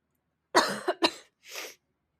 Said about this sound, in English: I'll take the mic away from my mouth when I cough